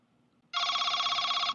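An Avaya IP Office desk phone rings for an incoming call, a loud, steady electronic trill that starts abruptly after a faint quiet lead-in and holds for over a second.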